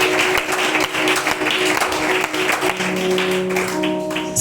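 A church congregation applauds and cheers in a steady, dense wash of clapping and voices that carries through the whole stretch, with some sustained tones ringing underneath.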